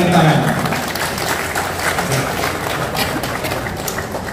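Applause at a Golkar and PSI political gathering in Indonesia, a steady crowd clapping that fills the whole stretch at even loudness, with voices mixed in beneath it.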